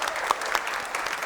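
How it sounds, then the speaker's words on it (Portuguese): Steady applause from an audience at a formal ceremony awarding the Tiradentes Medal, a dense patter of clapping hands that holds at an even level throughout. "palmas para ele"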